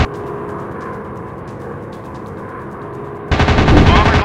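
WW2 aircraft machine guns fire in the video game Warplanes, a loud rapid burst cutting in near the end over a steady engine drone.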